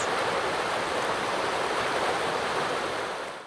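Running water in an audiobook scene of cool clear water being poured for washing, a broad steady rushing flow like a stream, continuous and fairly loud before fading at the end.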